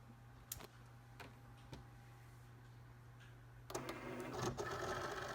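A Cricut Explore Air 2 cutting machine hums steadily with scattered clicks, then its rollers whir and rattle louder as the cutting mat is fed in.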